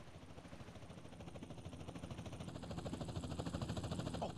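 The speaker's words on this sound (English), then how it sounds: "Chopper inbound!" In the GTA San Andreas mission Pier 69, a helicopter's rotor thumps in a rapid, even pulse that grows steadily louder as it approaches, with no talking.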